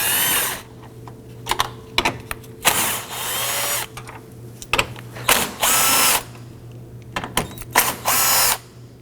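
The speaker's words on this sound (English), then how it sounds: "Loosen and remove those using your 10mm socket." A 10mm socket on a power tool zips and ratchets as the front bumper bolts come loose from a 2018-2024 Toyota Camry, with short loud bursts and clicks separated by brief pauses.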